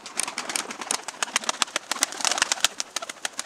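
Tumbler pigeons coo from a loft with fledglings, soft repeated cooing and scattered wing flutters and clicks nearby, moderately quiet with no talk over it.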